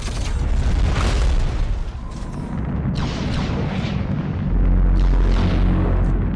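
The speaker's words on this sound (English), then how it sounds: "The sniper sounds amazing." Heavy weapon fire in the mech shooter Hawken, a sniper rifle among the shots: deep booming blasts and bursts come in quick succession, with a sustained low rumble building toward the end. Loud and close, with no talk.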